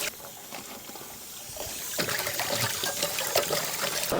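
Water trickles and splashes steadily while leafy greens are washed by hand, getting louder partway through as the flow strengthens, close by and without talk.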